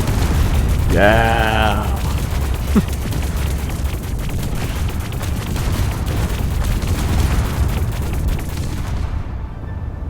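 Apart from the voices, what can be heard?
debug gun tool shooting and destroying in Space Engineers 2 video game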